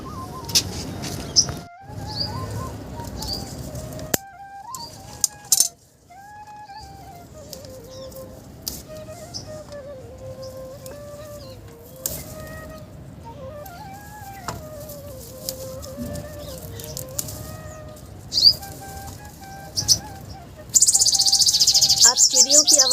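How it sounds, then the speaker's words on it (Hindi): Birds chirping and calling outdoors around a terrace vegetable garden, a thin wavering song carrying on throughout, with scattered sharper chirps and a burst of busier chatter at the end. "आप चिड़ियों की आवाज़ सुन रहे होंगे यहाँ पे।"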